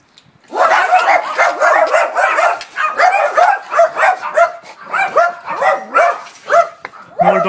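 Several dogs at a house bark and yip continuously and close by, overlapping excitedly in rapid rhythmic bursts over about seven seconds.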